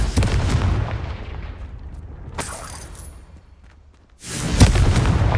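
Confringo fire spell explosions in the Hogwarts Legacy video game: a burst of booming blasts, then a quieter stretch and a sudden loud explosion near the end, close and heavy.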